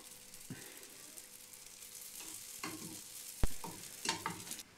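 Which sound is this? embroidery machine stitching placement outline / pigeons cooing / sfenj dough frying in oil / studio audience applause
sfenj dough frying in oil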